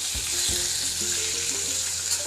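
Hot oil sizzles steadily as chillies fry, with a couple of soft knocks from stirring at the start.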